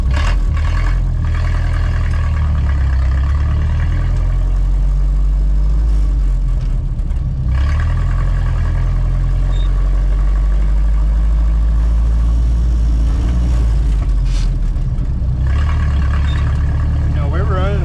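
A 1931 Ford Model A with a B engine drives on new bias-ply tires, its steady low engine drone and road rumble continuous and loud throughout, with people talking over the noise.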